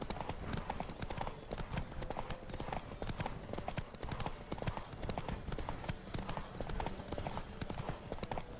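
A horse gallops flat out in a race in The Witcher 3, its rapid hoofbeats pounding steadily throughout, loud and close, with a faint voice underneath.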